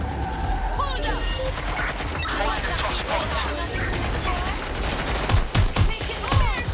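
Rapid bursts of gunfire from the video game Watch Dogs: Legion, dense and loud over a busy mix of clatter and mechanical noise, with louder shots punching through near the end; voices are mixed in.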